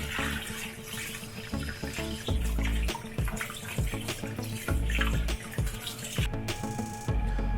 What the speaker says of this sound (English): So first we will wash the chicken properly.